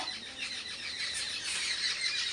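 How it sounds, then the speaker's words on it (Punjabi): Dense, continuous high-pitched chirping from many sparrows at once, a busy overlapping chatter at steady loudness. "ਕਿੱਦਾਂ ਚਿੜੀਆਂ ਦੀ ਆਵਾਜ਼ ਆਉਂਦੀ"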